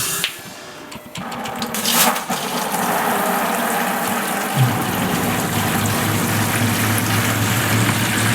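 Hot water runs from the exterior outdoor shower of a truck camper, a steady broadband hiss of spray that starts after a moment of mechanical clicking and continues strongly to the end.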